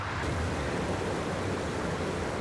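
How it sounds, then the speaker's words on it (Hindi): A waterfall gives off a steady, dense rushing roar, constant and unbroken throughout, with no voices. "यार ये झरना तो बहुत डरावना।"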